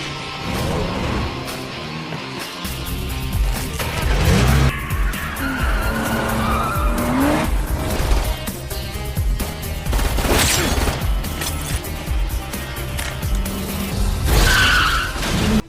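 A stolen car skids through a film chase scene, tires squealing in several sharp bursts over a roaring engine, with loud impacts and swelling action-movie score mixed throughout.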